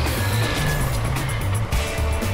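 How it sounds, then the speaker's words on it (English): A dump truck from a kids' trucks video game drives with a continuous, loud, low engine drone that holds steady, with only a brief dip in the middle. "This is a dump truck."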